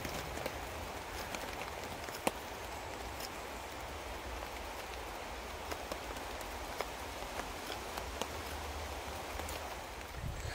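Rain falls steadily outdoors in warm weather, a soft, even hiss of drops on surfaces with a few faint taps, continuing alone without speech.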